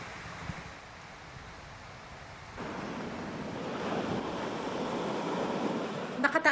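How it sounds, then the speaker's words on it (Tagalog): Rough, high surf pounds the shore at Pagudpud, Ilocos Norte, during bad weather, a steady broadband roar mixed with wind buffeting the microphone that grows louder and denser partway through, with no voices. "Mataas pa rin kasi ang mga alon dahil sa masamang panahon."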